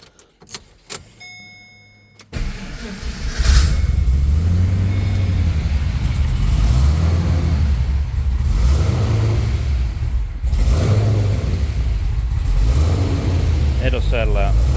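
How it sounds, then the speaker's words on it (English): A twin turbo Chevrolet Caprice PPV with a 6L90E transmission swap starts up and settles into a loud rumbling idle, its revs rising and falling in slow waves of blower surge, after a few quiet clicks. "It'll settle out in a second. This blower surge."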